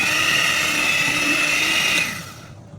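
An electric mixer whirs steadily through carrot cake batter with oil just added, a loud high-pitched motor whine that holds for about two seconds, then winds down and cuts off; no one speaks.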